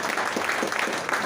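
Applause rises from an audience for a senator at a gathering with a bishop, a brief, fairly faint patter of clapping heard from a distance.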